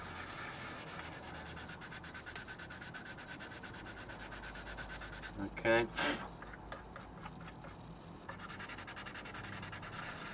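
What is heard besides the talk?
sanding stick smoothing plastic scale model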